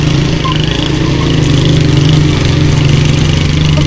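A Honda CD70 motorcycle engine runs steadily and loudly on a rough mountain track, a close, even low thrum with a constant buzzing hum and no revving.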